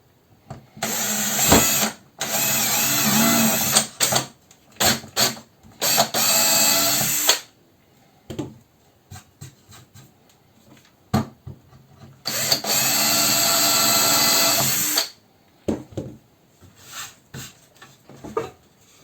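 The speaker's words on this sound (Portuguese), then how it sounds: "Furação realizada com sucesso." A power drill bores holes in wood during a woodworking class, whirring in several loud bursts of varying length, with quiet gaps and brief clicks between them.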